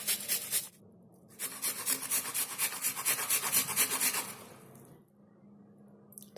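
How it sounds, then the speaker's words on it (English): An onion being scraped against a grater in the kitchen, two bursts of rapid rhythmic rasping strokes, close and fairly loud, the longer second run lasting several seconds before stopping. "Scrape the onion fully."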